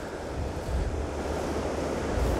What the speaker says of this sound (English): you can see that you've got a very fast flowing water there from the Caledonian Canal